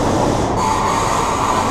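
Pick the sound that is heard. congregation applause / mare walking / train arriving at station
train arriving at station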